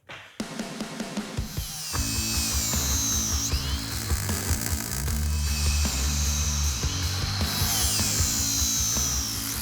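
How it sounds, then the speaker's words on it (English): Power tool grinding the contour of a metal tube for a custom car build, a loud, steady high whine that settles into continuous abrasive grinding with shifting pitch, close up and with no talking. "grind the contour"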